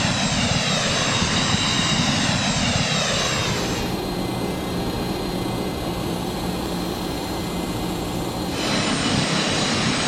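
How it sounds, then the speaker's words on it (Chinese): A jet airliner's engines roar loudly and steadily at takeoff on a winter runway, a sustained dense blast with a shifting high whine that thins in the middle and swells again near the end. "飞机勉强离地，机组努力使飞机保持在空中。"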